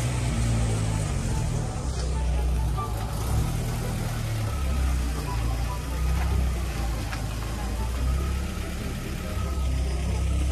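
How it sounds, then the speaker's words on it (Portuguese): A car engine idles and rumbles steadily nearby as the car arrives and parks, a continuous low hum throughout with no clear change in pitch. "olha o jeito que ele estacionou o carro"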